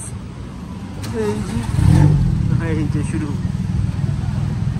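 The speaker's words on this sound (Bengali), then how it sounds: "প্রচুর পরিমাণে নয়েজ, এক্সজস্টের আওয়াজ" Exhaust noise from a tuk-tuk on a Bangkok street, a rough mid-range engine rumble that swells into a revving burst and then settles to a steady drone, with someone talking briefly over it.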